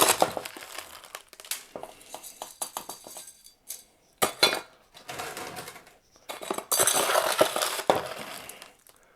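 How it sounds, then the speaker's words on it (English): Potting mix poured and pressed into a bonsai pot around a young acacia, gritty crunching and scraping in irregular bursts with short pauses, close and fairly loud. "Fill in the pot with our potting mix"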